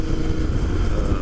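Royal Enfield 650 Interceptor motorcycle riding along country lanes, a steady, loud engine drone with dense low rumble and wind noise, continuous throughout without talk.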